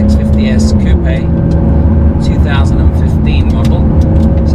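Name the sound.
McLaren 650S Coupe 3.8 litre V8 twin turbo engine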